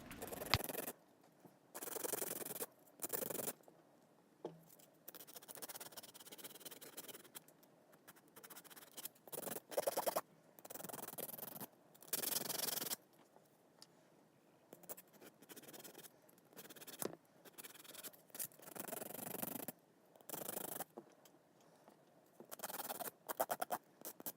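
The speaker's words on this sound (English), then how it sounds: "now I'm going to start to file and shape" Filing and shaping an acrylic nail made with a nail form, giving close, repeated rasping scratches in short bursts separated by brief pauses.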